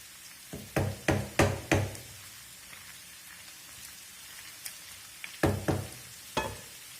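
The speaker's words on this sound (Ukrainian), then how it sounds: "І нехай вона цибулька тушиться." Onion stewing in a frying pan on a gas stove for beef goulash: a soft, steady crackling hiss broken by a few clusters of sharp, close clattering bursts, with no talking.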